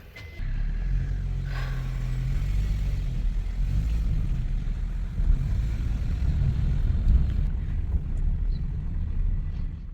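A car rolls slowly into a parking area in Botswana, its engine a steady low rumble that stays fairly loud and close throughout, with faint wind noise over the microphone.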